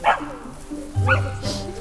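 A dog barks a few times in a forest in short separate woofs, close and fairly loud, with a higher yip at the end.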